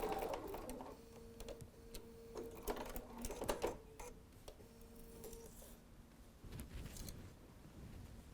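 A sewing machine stitches back and forth to secure the channel of a fabric face mask, quiet bursts of rapid mechanical whirring with short pauses between them, close and alone.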